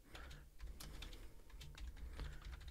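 Quiet, close tapping of keys on a computer keyboard as a folder is renamed in the Tracktion Waveform music software, an irregular run of light clicks with no voices.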